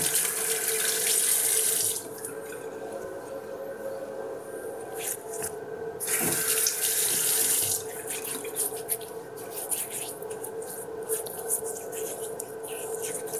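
Water runs steadily from a tap into a sink for thinning shaving soap, close and continuous, with the flow strengthening and easing a few times over the stretch.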